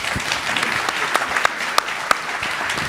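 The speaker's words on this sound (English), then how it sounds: "a big round of applause for our panelists." An audience at an investment summit applauds the panelists, a dense, sustained wash of clapping with a few louder individual claps standing out near the front.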